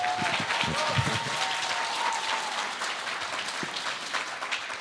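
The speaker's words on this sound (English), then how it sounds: "When we clap, we really, really clap." A conference audience at TechHR India 2022 breaks into loud, sustained applause, a dense wash of many hands clapping that fills the whole stretch at steady strength, with a few faint voices mixed in.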